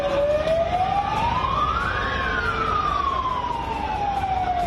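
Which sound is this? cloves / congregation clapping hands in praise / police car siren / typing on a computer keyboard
police car siren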